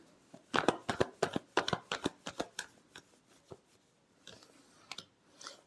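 Tarot cards get shuffled in a rapid riffling burst of close, crisp flicks that slows and thins out into a few scattered snaps near the end.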